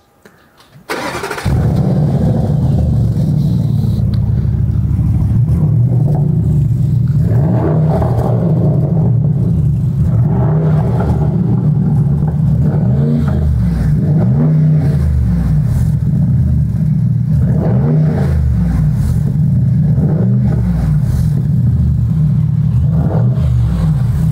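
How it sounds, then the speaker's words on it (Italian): An Audi SQ8 with a Supersprint sport exhaust fires up and settles into a deep, loud, rumbling idle with occasional throttle blips, steady and close for the whole stretch. "adesso Mirko accende la macchina e sentiamo il risultato finale"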